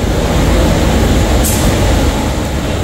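Prague metro train running through an underground station, a loud continuous rumble and roar of wheels on rail with a brief high hiss partway through, no one speaking.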